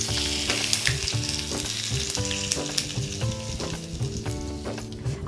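Hot tempering with asafoetida and sesame seeds poured over bajra flour mutke hisses loudly, then settles into steady, close frying crackle with repeated sharp bursts and scraping stirs.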